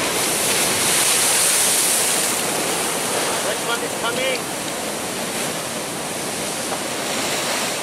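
Water rushing over orange rocks at a river or shore, a loud steady broadband wash with surging, surf-like swells throughout, close and continuous with no voices.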